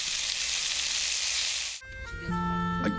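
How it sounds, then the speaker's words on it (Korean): Baby octopus grilling in sesame oil sizzles loudly for under two seconds, then the sizzle cuts off abruptly and quieter tonal clinks and a brief voice-like sound follow. "특별한 양념 없이 참기름만 둘러 구워도 군침이 절로 넘어갑니다"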